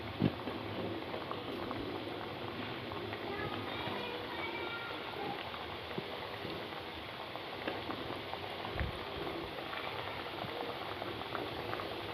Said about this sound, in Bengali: তো চলো ভালো করে আমি ফ্রাই করে নিই সেই বিস্কুটগুলোকে